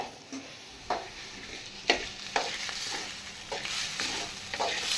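An egg frying in a pan for egg noodles gives a steady close sizzle broken by sharp scrapes and taps of a spatula.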